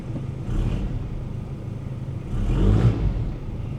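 A 1994 Toyota Hilux Surf with the 1KZ-TE turbo diesel drives along, its engine droning steadily from inside the cab and swelling twice as it pulls harder, with no talking.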